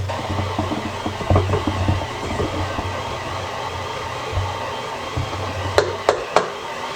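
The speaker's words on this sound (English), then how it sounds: "You can hear my mixer struggling a little bit." An electric stand mixer labours through stiff shortbread dough, giving a steady, straining motor hum with uneven low pulsing. A few sharp knocks come near the end.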